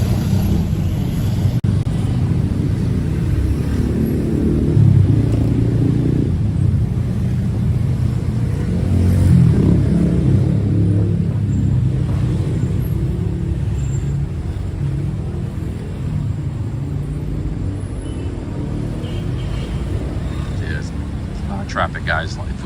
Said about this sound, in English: Traffic, guys.